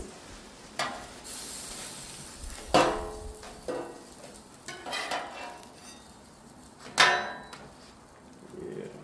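Faint sizzling in a pan, broken by several sharp clatters and knocks of utensils, scattered unevenly across the stretch.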